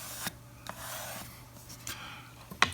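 Marking a line across a wood piece along a straight edge while building bookcase glass doors: a few short, faint rubbing and scratching strokes with a steady low hum underneath and a small tap near the end.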